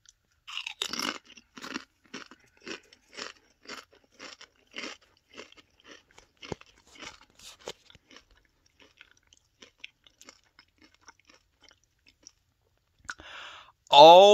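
Spicy lime Doritos chips being crunched, a steady run of sharp bites and chews close to the mic for most of the span, thinning out toward the end before a brief voice cuts in.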